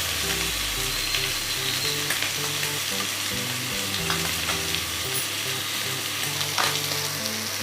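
Ghee sizzling and crackling on tandoori chicken in a hot pan, a loud, dense, continuous fry with occasional stirring scrapes close by and no voices.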